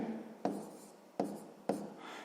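Pen strokes scratching across paper while writing out a math solution, three sharp-onset scribbles that fade out, close and clear with no talk.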